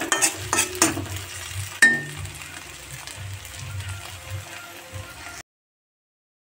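Vegetable bhaji being stirred and fried in a pan at home, a low sizzle under several sharp scraping and clinking strokes of a utensil, close by, ending abruptly.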